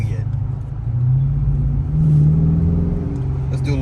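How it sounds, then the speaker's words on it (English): A 2023 Dodge Charger Daytona engine downshifting from inside the car, a loud low rumble that swells and falls with rising and dropping revs over a few seconds. "Let's listen to downshifts real quick."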